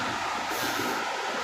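Water pours down from above in a jungle stream, a waterfall in a wild forest: a steady, unbroken broadband roar, moderately loud, with no other sounds standing out over its brief length.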